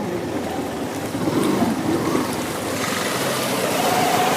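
A fast-flowing stream rushes and splashes steadily at a river crossing on a motorbike ride toward Chitwan, Nepal, a continuous close wash of water with no voices.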